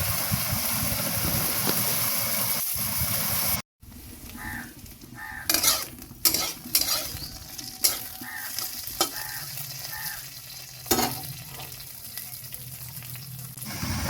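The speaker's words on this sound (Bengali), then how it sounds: "তো এখানে ভেন্ডিকে হালকা ভেজে নিতে হবে" Okra lightly frying in oil in a wok, a loud steady sizzle that cuts off abruptly, then softer frying broken by sharp scrapes and clatters of stirring against the pan, with a low hum behind.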